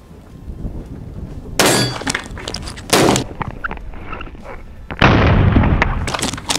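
A Soviet IZh-27 shotgun fires outdoors, giving a couple of loud, sharp blasts with ringing tails separated by a few seconds, followed by a longer, heavier burst of noise.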